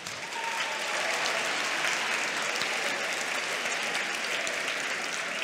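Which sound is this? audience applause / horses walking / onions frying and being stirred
audience applause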